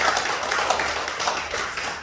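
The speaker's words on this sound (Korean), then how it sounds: "우리 잘 다녀오라고 우리 격려의 박수를 함께 했으면 좋겠습니다" A church congregation at a Sunday Advent service claps in encouragement, a brief burst of steady hand-clapping filling the room, with a faint murmur beneath.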